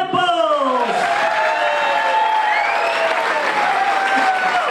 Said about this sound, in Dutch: ik zou toch eens een heel groot en warm applaus willen vragen voor onze goede vriend Patrick Sempels